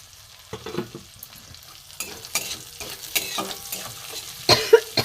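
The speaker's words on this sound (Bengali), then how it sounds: "ভাজার একটা মশলা, ভাজার একটা সুন্দর সেন্ট এসছে।" Grated ginger, cumin and coriander powder frying in a pan, a low hiss broken by repeated scraping stirs and spoon clacks against the pan, growing busier toward the end, with no speech.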